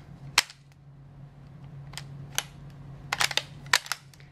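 Bolt of a small Marlin .22 long rifle bolt-action rifle being worked, a series of crisp metallic clicks and clacks, some in quick pairs, close up over a low steady hum.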